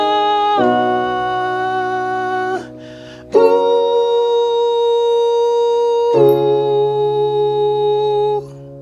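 A single voice sings a high tenor harmony line on a sustained "ooh", holding three long, clear notes with brief breaks between them, close and fairly loud with no accompaniment.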